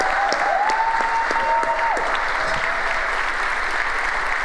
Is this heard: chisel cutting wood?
no